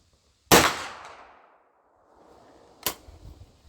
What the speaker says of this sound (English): I'm going to shoot this at a target I've got down at 25 yards.